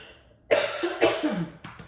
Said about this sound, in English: Sorry to cough in your ear, I know that is loud on those videos.